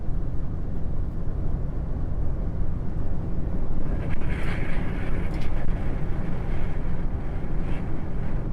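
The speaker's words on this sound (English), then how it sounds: "Man, that wind is blowing." Strong wind from a lake effect snowstorm in New York buffets the microphone in a loud, continuous low roar with steady rumbling gusts throughout.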